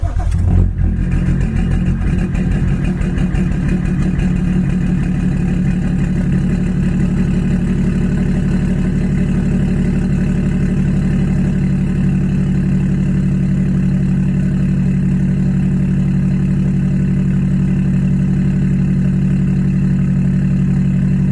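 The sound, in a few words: BMW E60 car engine idling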